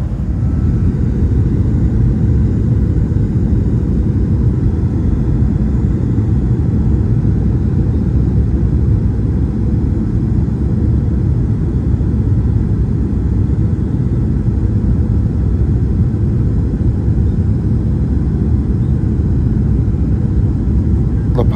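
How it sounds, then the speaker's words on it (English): Steady low roar inside a Max Air airliner cabin on final approach to landing, a constant loud engine and airflow rumble with no breaks. "So I think we're in the final approach to the runway."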